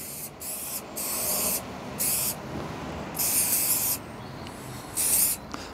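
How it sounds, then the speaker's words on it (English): Four short, loud bursts of aerosol waterproofing spray hiss close by onto canvas shoes, separated by quiet gaps, with faint rubbing in between. "And then lastly, we're going to do the canvas ones. Again, spray."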